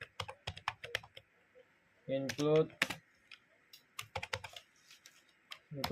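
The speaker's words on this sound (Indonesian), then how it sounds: "Yang pertama kita ketik include" C++ code is typed on a computer keyboard as quick, close clusters of clicking keystrokes, briefly interrupted by a short spoken phrase before the tapping resumes.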